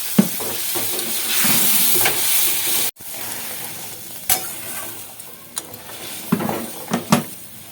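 Slit green chillies and a little water go into a hot pan for a fish curry, with loud steady sizzling and hissing, a sharp break in the sound, then softer frying crackle broken by a few spoon clinks and stirs.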